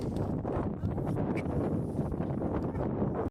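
Steady gusting wind buffets the microphone at a paragliding site at Amaya View, a constant broadband rush with no talk, loud and close throughout.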